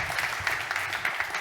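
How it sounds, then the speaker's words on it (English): A conference audience at the European AI Forum in Berlin applauds, a short, even burst of many hands clapping from a hall that holds steady for a moment. "Please, a little applause for Mr. Müller."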